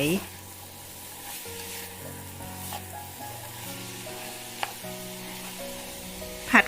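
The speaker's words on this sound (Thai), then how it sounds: "เราก็เอาไช้กัวเนี่ยค่ะ ลงผัด ใส่ลงไปก่อนครึ่งนึงค่ะ" Dried pickled cabbage and softened shiitake mushrooms stir-fry in a pan, giving a steady sizzle with scraping and stirring knocks, and a louder clatter at the start and end.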